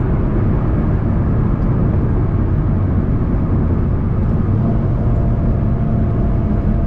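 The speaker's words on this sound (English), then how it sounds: "Once you're in the power band, all you hear is the incredible turbo sounds that you really want to hear." An Alfa Romeo 4C's turbocharged engine drones steadily from inside the car, a constant low, loud rumble with no distinct turbo whistle standing out and no talk.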